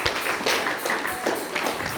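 A church congregation applauding together, a steady patter of hand claps close by that fills the room with little else heard.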